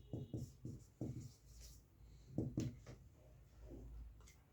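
Marker or chalk writing a definition on a classroom board, with short bursts of scratchy strokes and taps separated by pauses, close and fairly quiet.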